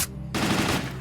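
A gun firing basic ammo in the video game STALKER lets off a short, loud burst of rapid automatic shots, starting abruptly after a brief lull and sounding close.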